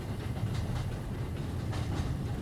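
Steady rumble and rhythmic clickety-clack of a train rolling along rails, a radio-drama sound effect, continuous and fairly close with no voices over it.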